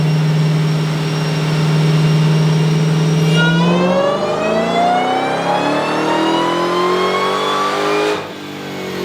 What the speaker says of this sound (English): He's currently getting on the fucking dyno right now, so that Dodge Demon.